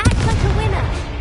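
A Confringo fire spell blast from the video game Hogwarts Legacy, a short booming burst that sounds like artillery, loud and dense over a low rumble, with a voice calling out under it.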